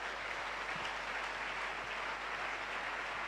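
A church congregation applauds steadily, the clapping blending into a dense, even wash of sound that holds at a moderate level throughout, with no voices rising above it.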